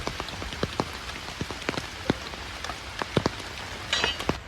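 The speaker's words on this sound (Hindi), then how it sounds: "क्योंकि यहाँ पे अभी बारिश कल से हो रहा है रांची में" Rain falls on a forest campsite in Ranchi after a day of downpour, a constant wet patter with sharp, irregular drips striking nearby surfaces, close and moderately loud, with no voices.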